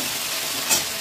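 Ginger-cumin paste sautéing in a pan gives a steady broadband sizzle with scraping stirring and a brief brighter crackle near the end, close and alone.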